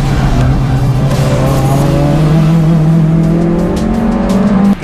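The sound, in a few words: race cars driving through a racing circuit turn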